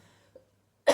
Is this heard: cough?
yes